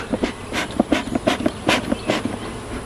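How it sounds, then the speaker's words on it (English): A bee smoker puffs at an open hive in a quick run of about ten breathy, hissing bursts, close and fairly loud, each with a soft bellows thump. "Alright, a little bit of smoke."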